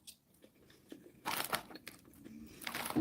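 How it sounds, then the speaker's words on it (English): Someone chews a crunchy chickpea snack close to the mic, with faint irregular crunches that grow into louder bursts of biting and grinding, no speech in between. "Chew with your mouth shut and don't talk with your mouth full."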